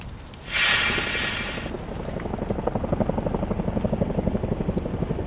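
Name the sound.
helicopters flying in the distance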